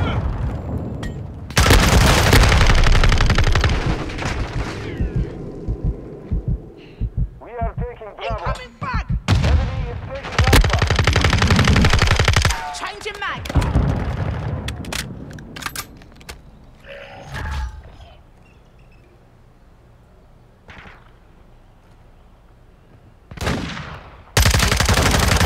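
Heavy gunfire and explosive booms from the video game Call of Duty Modern Warfare 2, loud bursts arriving in clusters with quieter gaps between them, and a voice talking at times.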